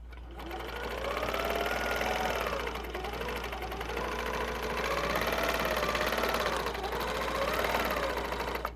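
A quilting machine stitches along a circular ruler template, its needle running in a steady fast mechanical hum with a rhythmic chatter that rises and falls slightly as it moves, close and continuous with no talking.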